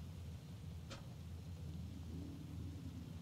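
Rain with thunder in the racing video game Forza Horizon 5: a steady hiss of rain under a deep, rolling low rumble, with one brief sharp crackle near the start.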